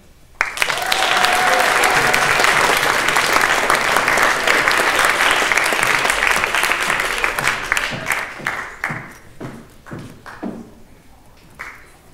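A roomful of people gives sustained, loud applause welcoming mock-election candidate James Gregory at St. Gregory's, with steady clapping that thins into scattered claps and fades out.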